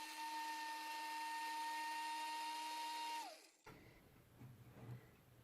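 A coffee grinder grinding dehydrated eggs, a loud steady high-pitched motor whine for about three seconds that winds down and stops, followed by faint rattling and handling noises.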